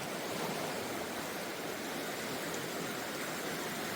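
A river running full in February flows in a steady, dense rushing roar, continuous and close, with no voices.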